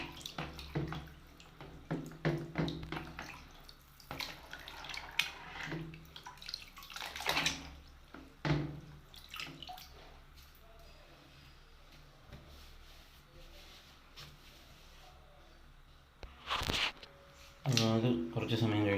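A motherboard with corrosion is lowered into a tub of water and soaked, giving soft sloshes, drips and splashing in short bursts while someone talks over it, with louder water noise near the end.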